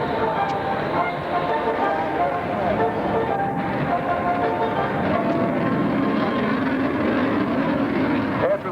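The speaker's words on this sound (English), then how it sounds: "After that short takeoff," Aircraft roaring through a short takeoff at the 1995 London International Airshow, a steady, loud broadband engine drone lasting throughout with no break, as a voice talks over it.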